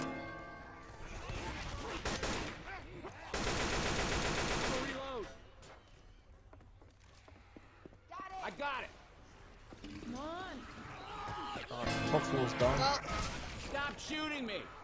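Video game gunfire in Left 4 Dead 2 on hard mode, with dense bursts of rapid shots in several loud stretches mixed with other game effects while players talk over the action.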